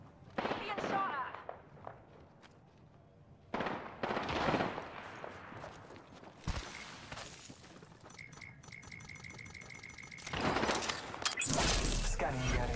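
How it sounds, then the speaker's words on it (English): Gunfire in the Apex Legends video game, repeated bursts and rapid automatic fire with impacts and shattering effects, mixed with game sounds and voice callouts throughout. "Being shot at."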